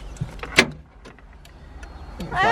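Central locking actuators on a Citroen C1 engage with a short, sharp mechanical clunk, followed by faint whirring and small clicks, ending in a brief rising mechanical burst, all heard close up in a quiet space.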